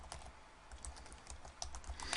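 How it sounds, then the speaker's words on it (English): Quiet, steady keystrokes on a computer keyboard tap in a quick irregular run, close but faint, with no voices over them. "and then typing it in."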